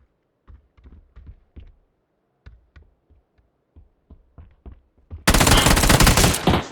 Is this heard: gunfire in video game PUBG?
yes